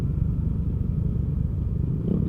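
A tricycle engine rumbles steadily on a road in the Laguna–Real, Quezon area, a low continuous motor drone holding near and fairly loud throughout, swelling slightly toward the end as it passes.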